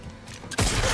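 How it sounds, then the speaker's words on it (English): A gunshot in a shooting video game goes off as one sudden, loud, close burst that cuts in after a quiet moment and rings out briefly, with no speech. "I shot him straight in the mouth."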